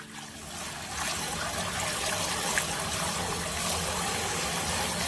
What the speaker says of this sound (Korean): 송차를 만들기 위해서는 요 솔순을 깨끗하게 이제 여러 번 씻어서 어, 채반에 건져주겠습니다.